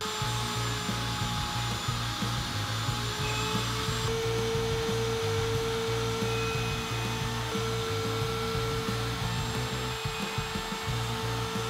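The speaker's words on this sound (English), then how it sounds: "I'm gonna use my horizontal mortiser." Horizontal mortiser cutting an end-grain mortise in a wooden headphone stand upright, a continuous loud motor whine with grinding, rubbing cut noise throughout.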